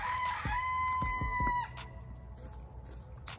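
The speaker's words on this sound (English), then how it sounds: "I ain't gonna kill my rooster" A backyard rooster crows loudly and close by in one long cock-a-doodle-doo, with some clucking and scattered farmyard noise continuing after the call fades.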